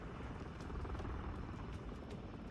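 Helicopter in the game Modern Warfare III, a low, steady rotor thrum droning throughout, fairly faint and unbroken.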